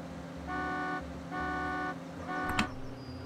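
A car horn in GTA honks three times in a steady sequence, each a sustained, moderately loud blare with short pauses between, followed by a brief thump.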